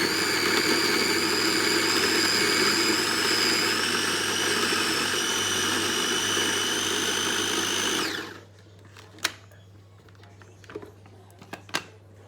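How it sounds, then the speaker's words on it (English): Food mixer whirring loudly and steadily as it chops about fifteen sun-dried tomatoes, a close sustained motor drone that cuts off abruptly near the end, followed by quiet clicks and handling noises. "it's about 15 sun-dried tomatoes into the mixer. And we are also gonna chop them."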